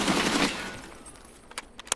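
Gunfire in the video game Escape from Tarkov: a loud sustained burst at the start fades into a few sharp, separated shots, fairly close with no talking.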